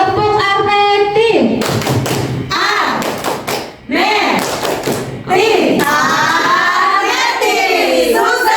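A group claps the Tepuk Arneti pattern at a school culture-sharing event, bursts of rhythmic claps and slaps alternating with chanted voices and talk, loud and close in a room.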